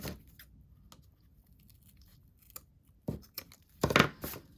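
Scissors snip at paper bee skep decor in quiet, close cuts: a few faint clips early on, then a louder cluster of crisp snips and rustling near the end.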